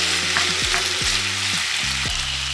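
Onions, red and orange peppers and fresh garlic sizzle steadily in a pan while being stirred, with scraping strokes of the spoon breaking through the continuous frying hiss, close and fairly loud.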